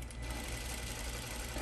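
A sewing machine runs steadily, stitching pajama shorts under the presser foot, with a continuous low motor hum and fast needle chatter, close and alone throughout.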